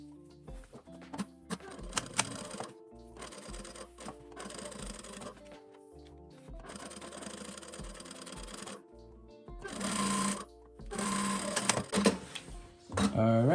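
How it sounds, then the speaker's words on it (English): Sewing machine stitching a 1 cm seam along the curved edge of two aligned fabric pieces for women's shorts, running in several bursts of buzzing stitches separated by pauses, with a voice talking between runs. "we're gonna start by sewing a 1 centimeter line down this edge, following the curve till the very end"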